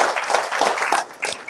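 Moderate applause from a studio audience as a tribute to the late footballer Gigi Riva on a football club talk show, brief and fairly even in texture.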